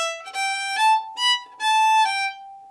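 Solo fiddle plays a short phrase from the old-time tune Cranberry Rock at a quicker tempo, with a few clear bowed notes mixing separate strokes and slurs over a sustained drone, close and moderately loud.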